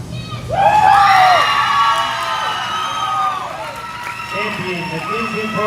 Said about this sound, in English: Let's go ahead and give all these exhibitors one more big round of applause.